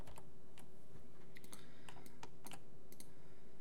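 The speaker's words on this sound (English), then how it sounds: "and hit the insert key once again." Computer keyboard keys pressed in a few separate clusters of quick, sharp clicks, close and fairly quiet over a low steady hum, with no voices.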